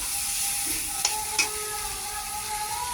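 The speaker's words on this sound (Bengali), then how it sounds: "এখন সকালবেলা আলু সিদ্ধ খাওয়ার থেকে তাই দেখো সোয়াবিন রান্না করছি, পুরো মাংসর মতো কষিয়ে" Soybean curry is stir-fried in a pan with boiled potatoes nearby, giving a steady close sizzle. Two sharp utensil clinks from stirring stand out against it, and no one speaks.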